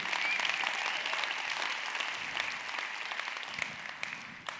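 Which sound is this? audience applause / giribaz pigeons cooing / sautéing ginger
audience applause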